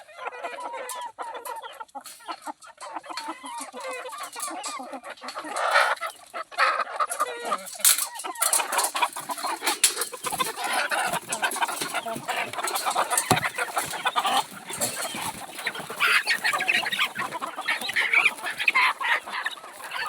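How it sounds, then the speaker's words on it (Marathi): Free-range village chickens cluck and call steadily, one hen's repeated calls rising over a busy, close flock, with sharp clucks and squawks continuing throughout. "बघा हे आता एकाच कोंबडीच्या हाका लागले"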